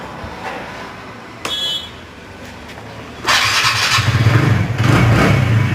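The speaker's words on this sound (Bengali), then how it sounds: "গাড়িটা এখন আমি স্টার্ট করব দেখো আওয়াজটা খালি শোনো চাবি অন করে দিলাম" A TVS Ntorq scooter with a loose one-way clutch is started with the key: a brief click and starter whir, then the engine catches and idles with a steady, close running note and light revs.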